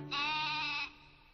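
A single drawn-out sheep bleat, wavering and fairly close, lasting under a second, then quiet background.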